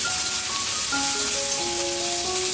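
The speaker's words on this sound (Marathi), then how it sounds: "थोड्याशा मिरच्या आणि 15 ते 20 लसणूच्या पाकळ्या थोडंसं तेल टाकून भाजून घ्यायचे आहेत." Green chillies and garlic cloves roast in a little oil in a pan, giving a loud, continuous sizzle and crackle with no talking.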